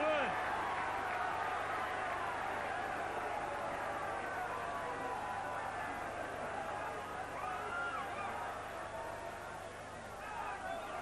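A big crowd at a 1984 Schweppes Cup quarter-final rugby match between Llanelli and Pontypool at Stradey Park, a steady distant roar of spectators rising and falling, with a commentator talking over it.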